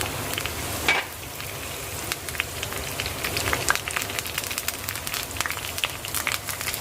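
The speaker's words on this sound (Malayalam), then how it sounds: "എണ്ണ ചൂടായി അതിലേക്ക് കുറച്ച് കരിയാപ്പിലേക്ക് കൊടുക്കാം" Curry leaves crackle in hot oil in a pan while a fish pickle is being made, giving a steady close sizzle with scattered sharp pops throughout and no talking.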